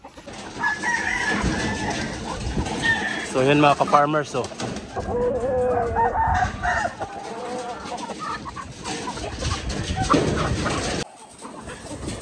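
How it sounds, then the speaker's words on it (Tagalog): Fifteen laying hens in a newly built breeding pen cluck and call steadily and close by, with a rooster crowing partway through and a dog heard nearby as someone talks over the flock. "So ito naman yung 15 natin na mga bagong mga manok."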